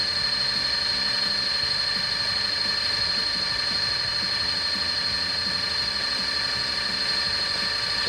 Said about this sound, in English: This drill will run a grand total of 550, I believe, RPMs.